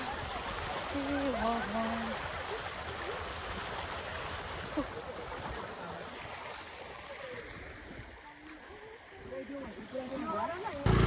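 A broad river near Damauli in Nepal rushes steadily in the background, a constant flowing roar under people talking nearby.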